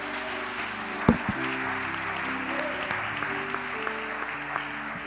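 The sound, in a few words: congregation applause in church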